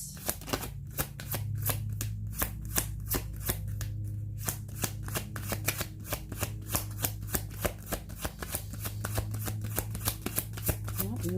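Tarot oracle cards being shuffled by hand, a close, quiet run of rapid crisp riffling snaps in a steady rhythm, with a low hum underneath.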